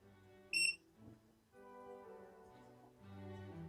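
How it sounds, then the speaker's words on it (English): A single short, high electronic beep sounds near the start as a cheesemaking appliance pauses, followed by quiet humming and faint background noise. "as soon as I lift that out, that's going to beep"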